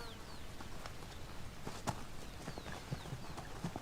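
Konik ponies walking, their hooves clip-clopping in an irregular rhythm at a moderate distance, faint and steady with bird calls in the background.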